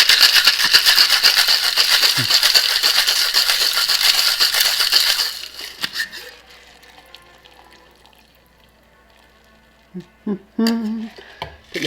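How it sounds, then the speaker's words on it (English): Cocktail shaken hard in a shaker with ice, a dense rapid rattle for about five seconds, loud and close, followed by quieter clinks and a few sharp knocks of glass and metal. "Give it a good shake."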